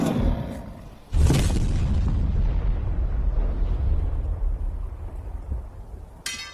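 Skeleton minions blown up in a necromancer video game: a sudden loud boom at about one second, then a sustained rumbling roar that slowly fades, with a brief bright crackle at the very end.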